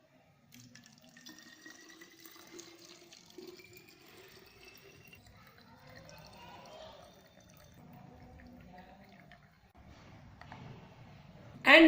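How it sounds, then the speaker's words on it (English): Alcohol pours steadily into a small spray bottle for several seconds, a soft trickling stream ending with a sharp clatter. "we will pour 170 ml of it to our spray bottle"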